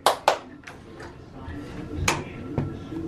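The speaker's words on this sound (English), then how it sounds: "Clap your hands." Two quick hand claps ring out up close, followed by a few softer taps and muffled voices in the background.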